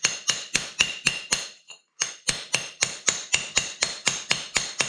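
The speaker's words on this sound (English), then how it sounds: "I'm going to start off by using a mason's chisel and just a 12-ounce ball peen hammer" Rapid, evenly spaced sharp metallic strikes of a 12-ounce ball peen hammer on a mason's chisel chipping high spots off a concrete basement wall, about three per second, with one brief pause before the pounding resumes.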